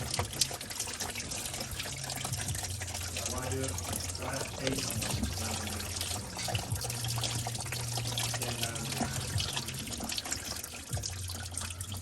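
Engine coolant gushes and splashes continuously close by as it drains from a 2019 Toyota Prius, with voices talking over the steady pouring.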